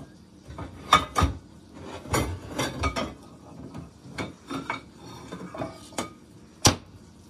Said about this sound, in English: I'm going to get a small skillet out of the cabinet if I can.